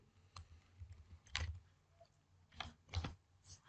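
Quiet clicks on a computer keyboard while composing an email signature in Gmail, a few sparse separate keypresses, faint and close, with near silence between them.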